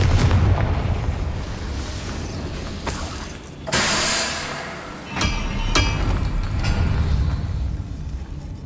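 In the Hogwarts Legacy video game, a Confringo blasting spell explodes amid loud, continuous game noise, with booming bursts and sharp cracks rising over a dense low rumble.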